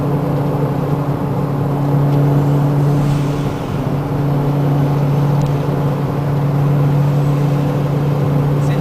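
Mercedes C63 AMG Touring turbo engine pulling hard in fifth gear, a loud steady drone with a strong low hum that holds throughout, heard from inside the car with no talking.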